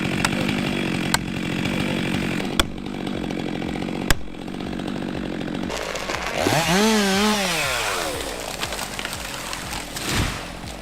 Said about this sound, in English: The Steel MS-462 is a high-performance saw built for exactly this scale of timber.